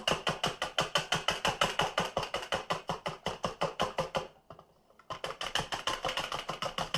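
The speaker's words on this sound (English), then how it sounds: "I'm going to mix up my egg whites until they're nice and frothy" Egg whites whisked briskly by hand in a bowl until frothy, a fast steady rhythm of close clicking strokes that pauses for a moment and then resumes, with no voices.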